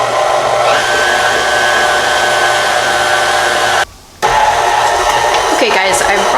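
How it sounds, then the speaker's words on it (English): A stand mixer runs steadily while kneading burger bun dough, giving a continuous loud motor whir. It cuts out briefly and then starts again. "I'm going to knead it in my mixer for 7 minutes"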